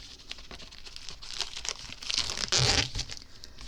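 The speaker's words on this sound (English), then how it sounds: "let's get my snips here and open this up and see what's inside" Paper packaging of a paper craft kit is crinkled and torn open with snips, a close, busy run of rustling and tearing that swells to a louder burst near the end, with no talking.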